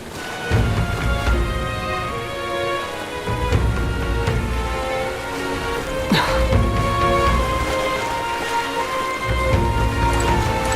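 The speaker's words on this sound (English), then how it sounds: "This bloody rain." Rain falls steadily on a surface throughout, a constant patter mixed with a layered music-like tonal bed and a brief louder crack partway through.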